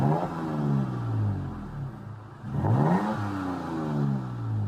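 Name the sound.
Toyota Tacoma TRD Pro engine revving through dual MagnaFlow mufflers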